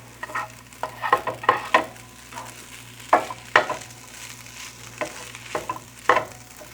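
Egg setting and being stirred in a hot pan for Japanese-style chicken fried rice, a continuous close sizzle broken by bursts of spatula scraping, with no one speaking.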